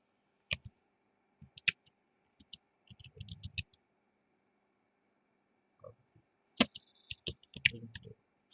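Keys tapped on a computer keyboard while a command is typed into a terminal, heard as scattered quiet clicks in short bursts separated by pauses, close and alone in a quiet room.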